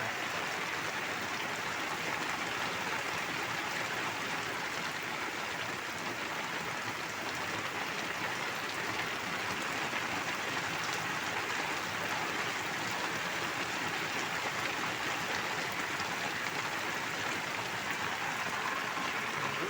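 Rain falls on rice paddy fields during the harvest season, a steady, dense, even hiss of drops that carries on unbroken for the whole stretch, moderately quiet and with no voices.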